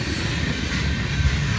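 A freight train hauling old boxcars rolls past close by, a loud continuous rumble with rattling wheels and faint squeals.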